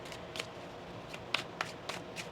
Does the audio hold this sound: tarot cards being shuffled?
yes